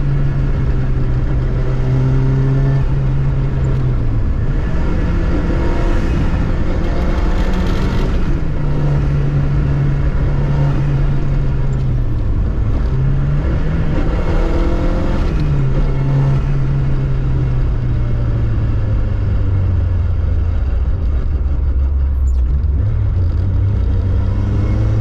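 A Lancia Futurista rally restomod on a twisty California road, loud and steady from inside, accelerates at full throttle through repeated rising gear pulls, each broken by short dips at the shifts.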